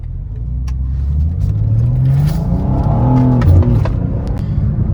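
BMW M2 engine accelerating on the road, a loud, close mechanical roar that rises in pitch as the car builds speed, then briefly shifts and settles.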